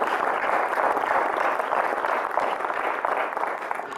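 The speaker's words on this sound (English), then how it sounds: "And I think John Pramberg deserves a round of applause as the outgoing president." An audience applauds the outgoing president at a meeting, a dense, even wash of many hands clapping that holds steady without a break.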